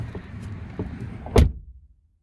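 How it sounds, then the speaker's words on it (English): The rear door of a 2017 Dodge Ram 1500 Lone Star Edition with a 5.7 engine shuts with a single solid thud, close by, after faint movement noise, followed by silence. "Let's listen to that door, man."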